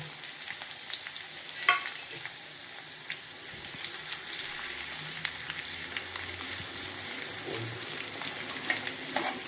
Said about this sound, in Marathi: तेल गरम झालेलं आहे आपलं आता आपण त्याच्यासाठी मध्ये टाकूया लसूण जिरे आणि हिरवी मिरची कट केलेली